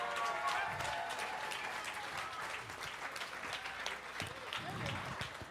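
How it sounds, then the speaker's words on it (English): An audience at a benefit auction bursts into steady applause, dense overlapping clapping that carries on for several seconds at a moderate distance, with scattered voices mixed in. "would you give all those people a huge round of applause?"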